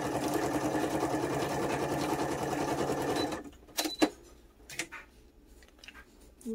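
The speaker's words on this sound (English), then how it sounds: "Using my sewing machine." A sewing machine runs in a fast, steady stitching rhythm for several seconds, then stops, followed by a few scattered clicks and handling noises.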